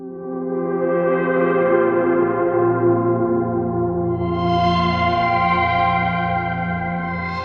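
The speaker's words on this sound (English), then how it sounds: "Here's the pad sound I had." A sustained synthesizer pad with rich, effects-laden harmonics swells in and holds steady for the whole stretch, brightening partway through as airy upper layers join, loud and unaccompanied.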